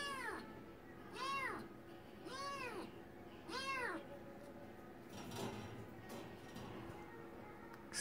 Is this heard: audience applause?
no